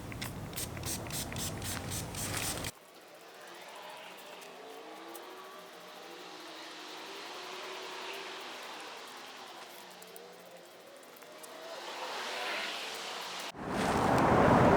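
Sylvania headlight restoration cleaner is sprayed onto a car headlight. A short mechanical clatter gives way to a soft, steady hiss of spray that swells and fades, then ends in a louder burst of handling noise.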